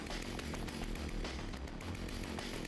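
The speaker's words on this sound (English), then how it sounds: "The chainsaw sound is attached to this dude's corpse for some reason." A glitched chainsaw sound in the video game Wanted: Dead, a continuous buzzing engine drone with a rough, throbbing low rumble running steadily throughout, moderately loud with no talk over it.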